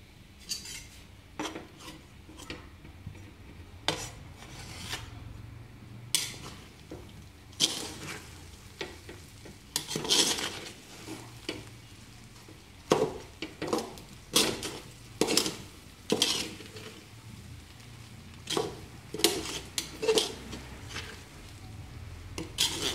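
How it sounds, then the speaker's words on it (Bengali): Metal spoon scraping and clinking against a pot while kacchi biryani is stirred after kewra water is added, irregular sharp taps and scrapes close by with brief pauses between them. "কেওড়া জলটা দেওয়ার পর আমরা আবার এটাকে নেড়ে 10 মিনিটের জন্য আবার দমে রেখে দেব"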